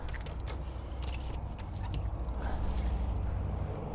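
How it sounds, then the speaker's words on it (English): A bunch of keys jangles and clinks repeatedly as it is grabbed, close up over low background rumble, beside a new 2022 OBI Dweller 15 camper trailer, no talking. "Grab the keys here"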